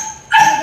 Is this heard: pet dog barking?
yes